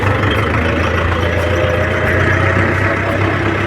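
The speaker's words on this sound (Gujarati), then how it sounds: "અમારા ગામમાં એક નવું ટ્રેક્ટર આવ્યું છે." A village tractor fitted with a pesticide spraying machine runs its engine close by, a loud, steady low rumble with an even idling throb and no voices.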